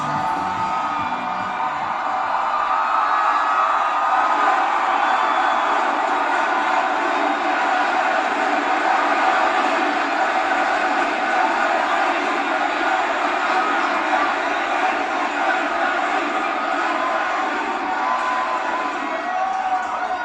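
A wrestling arena crowd in Milwaukee roars and cheers without pause, a loud, dense wall of voices with whoops rising from the mass, sustained and steady throughout.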